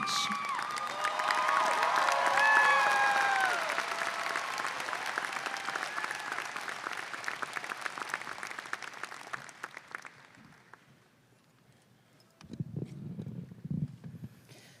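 A commencement audience applauds and cheers to welcome a student speaker, dense loud clapping that swells early then thins and fades out, followed by a few voices and light sounds near the end.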